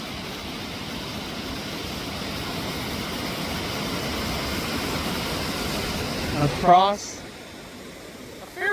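Hector Falls, a winter waterfall flowing into Seneca Lake in upstate New York, gives a steady broadband rushing roar close by, with a person speaking briefly over it before the sound drops off near the end.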